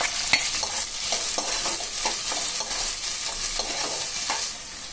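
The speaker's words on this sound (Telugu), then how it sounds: "ఉప్పు ఆ తర్వాత ఆనియన్ ఎర్రబడరకు కలుపుకొని పెట్టుకోవాలి" Onions, green chillies and spices fry in a pan with a bright, continuous sizzle while a spoon stirs through them in soft, irregular scrapes, close and without any talk.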